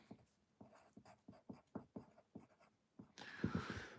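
A pen scratches on paper in a quiet room, heard as a series of short, close strokes in an uneven rhythm, ending in a longer, brighter scribbling stroke.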